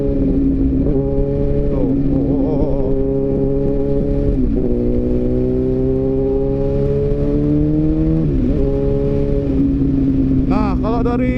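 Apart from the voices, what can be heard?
Yamaha R1 superbike accelerating at high speed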